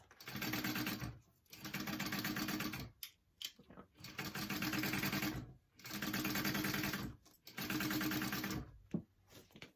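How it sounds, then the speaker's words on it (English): A sewing machine basting a piece onto a fabric clutch bag, running in several bursts of rapid steady stitching with brief pauses between them, close and clear. "I'm just going to baste this on first."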